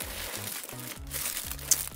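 Plastic packaging crinkles and rustles near the mic for about two seconds, with soft rhythmic handling noise and a short sharp snip or crackle toward the end.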